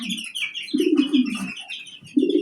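Pigeons at a small farm coo in low, throaty rolling phrases close by, three separate bursts with some higher chirps and rustling between them.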